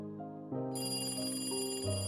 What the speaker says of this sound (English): Next minute, the phone rang.